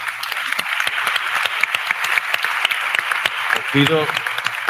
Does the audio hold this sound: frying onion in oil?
no